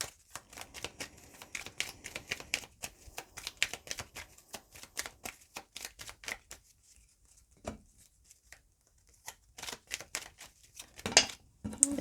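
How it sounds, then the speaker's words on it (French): Lenormand cards being shuffled and drawn by hand, a rapid series of crisp papery flicks and snaps, close and fairly quiet, with brief pauses and a few sharper slaps near the end. "je vais venir prendre des cartes du Lenormand"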